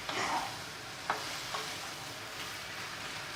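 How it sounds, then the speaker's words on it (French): Small grey shrimp with spices stirred gently in a hot pan: a steady close sizzle broken by a few soft scraping strokes, with no voices. "je rajoute mes petites crevettes grises. Et je remue délicatement."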